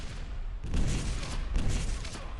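Rocket launcher fire in Quake Live, two dull booming blasts about a second apart over a noisy game background.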